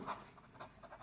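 Marker or chalk scratches out a few quick, faint strokes on a board during a maths lesson on triangles. The scratches come close together in a brief burst, with no talking.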